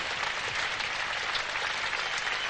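A small morning crowd at a 1978 Australia versus England Test cricket match applauds a catch, steady clapping filling the moment from a distance, without any talking.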